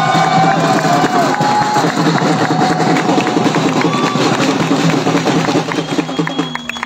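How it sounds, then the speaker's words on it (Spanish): Loud, dense crowd noise of shouting and cheering fills a celebration aboard a cruise boat, a continuous roar with scattered whistles and voices mixed through it. "Un gran grito, un aplauso a los compañeros"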